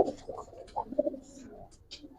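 A female Giribaz pigeon calls from a cage with a few soft, close coos and short grunting notes, fairly quiet, with no one talking over it.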